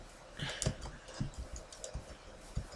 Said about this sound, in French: Je me suis acharné sur mon clavier.